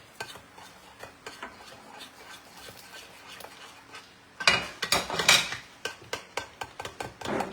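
Cabbage bread batter is stirred in a bowl: a soft, steady scraping at first, then louder clattering strokes of a utensil against the bowl in a quick irregular rhythm, close by with no talking.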